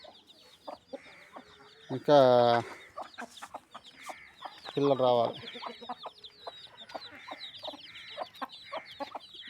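Hens clucking in a yard with chicks nearby, two loud bursts of harmonic squawking stand out amid ongoing clucks, and someone speaks briefly over them.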